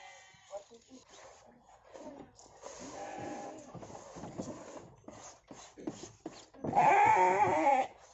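Goats bleat at a nature school farm, with a loud, wavering call near the end following fainter animal sounds and background talk.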